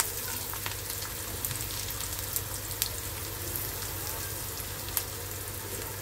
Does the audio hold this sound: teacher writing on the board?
no